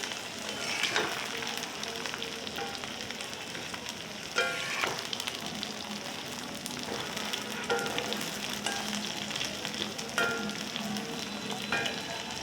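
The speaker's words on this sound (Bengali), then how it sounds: "ভালোভাবে নাড়া দিয়ে দিব উপর নিচ করে ভালোভাবে নাড়া দিয়ে" Okra frying in plenty of oil in a pan, stirred and turned over top to bottom; a steady close sizzle runs throughout, with intermittent scraping bursts from the stirring and no talking.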